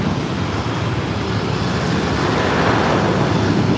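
An Emirates Airbus A380 airliner arriving from Dubai at Los Angeles International Airport makes a loud, steady jet roar that fills the whole clip, with no voices.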